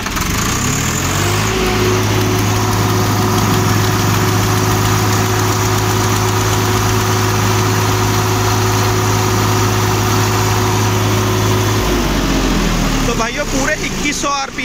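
A Swraj 744 XT tractor engine is held at full throttle while standing still, a loud steady drone with a sustained pitch that drops as the revs fall near the end.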